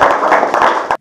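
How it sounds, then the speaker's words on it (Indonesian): A classroom audience applauds a presenting group of students, dense steady clapping at close range that fills the whole moment and cuts off abruptly at the end. "Oke, tepuk tangan untuk kelompok"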